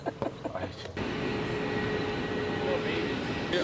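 Inside a small propeller plane bound for Halifax, a dense, steady engine roar and rushing hum fills the cabin after a moment of quieter shuffling and faint talk.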